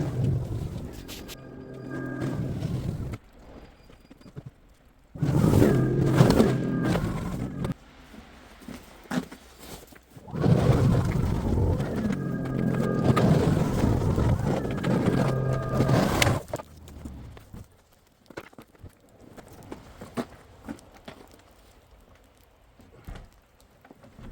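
A Greenworks 80V two-stage battery snow blower runs outdoors in bursts, its motor and auger whirring loudly for several seconds at a time, separated by quieter pauses.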